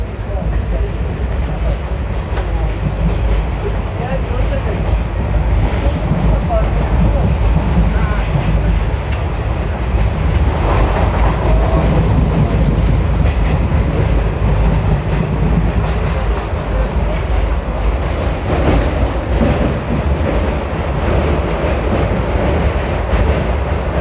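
Dehradun Janshatabdi Express train heard from inside a coach while running: a loud, continuous low rumble with rattling and a faint rhythmic clatter, and occasional voices in the background.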